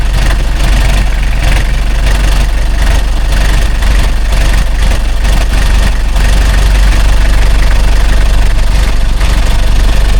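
A vehicle engine idles while warming up, a loud, constant low rumble with a slight knocking texture that runs steadily and alone throughout.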